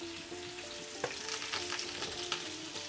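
A steak fries in a pan with butter and garlic, a steady close sizzle and crackle with a few sharp spits and a light scrape of stirring.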